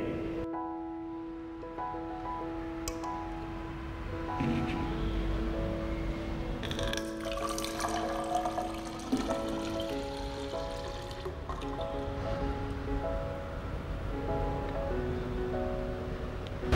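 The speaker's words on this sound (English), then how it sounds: "We now transfer this 500 milliliters of water into 1000 milliliters" Five hundred millilitres of water poured from a smaller cylinder into a 1000 ml measuring cylinder, a steady trickle and splash running for many seconds with clinking glass and a faint sustained tone underneath.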